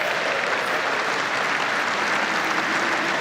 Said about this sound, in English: A great cheer breaks out.